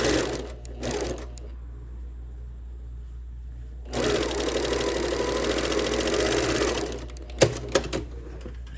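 A sewing machine stitching quilt seams for a quilted kite wall hanging, a short whir and then a steady motor-driven run of several seconds, close up, ending with a few sharp clicks.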